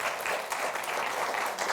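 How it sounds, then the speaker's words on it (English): A live event audience applauds together in a hall, a dense, steady wash of many hands clapping at once that stays fairly even in loudness throughout, with no single claps standing out. "Now you can clap."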